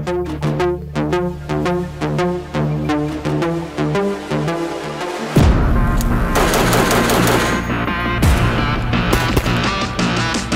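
Rapid gunfire from a rifle fitted with an Ase Utra Dual 556 Short suppressor, heard as bursts of close, loud reports, first rhythmic then denser and heavier in the second half, with no talking.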